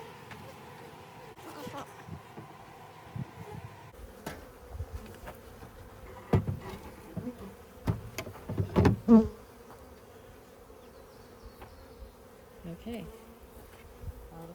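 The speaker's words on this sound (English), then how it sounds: "they're very chill bees anyway" Honey bees buzz steadily around an open hive during a spring hive check, a continuous insect hum with scattered closer buzzes and a brief spoken word.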